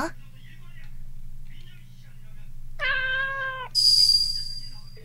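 A cat in an adventure video game gives a short meow, then a higher, sharper cry, both heard over a low steady hum with soft background sounds in between.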